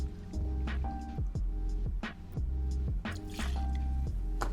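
Bourbon is poured for a whiskey cocktail, with soft liquid drips and gurgles in a loose rhythm, close and fairly quiet.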